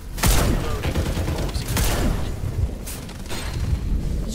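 Video game gunfire in a ranked match, dense rapid bursts and booming shots, loud and close, repeating through with brief gaps and faint shouting voices mixed in.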